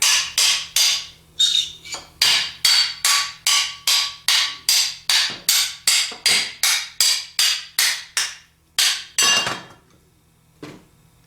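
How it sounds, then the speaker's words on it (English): A ball peen hammer taps the outer metal plate of a Chevy 130D alternator in a steady, rhythmic series of sharp, ringing strikes, about two per second, then stops with a couple of faint knocks. "We need a ball peen hammer, and we're going to hold onto the shaft and tap on the outer plate."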